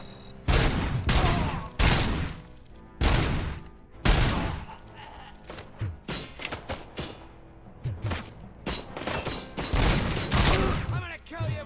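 Gunfire and grenade blasts from the first-person shooter RoboCop: Rogue City, with heavy, loud bursts of shots and thumping explosions arriving in rapid clusters throughout, and a voice occasionally speaking beneath the din.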